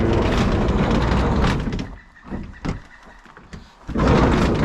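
Sliding side door on a rusty 1975 Volkswagen T2 Westfalia Bay Window bus being moved: a loud, close metallic rolling scrape, a brief quieter stretch with a couple of knocks, then another loud sliding rumble.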